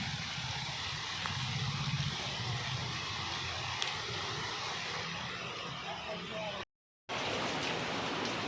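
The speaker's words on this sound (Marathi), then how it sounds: "आणि आलेलाच आहे पाऊस" Rain falls steadily at a plant nursery among banana plants and saplings, a continuous broad patter with a faint engine-like drone beneath, broken by a brief gap near the end.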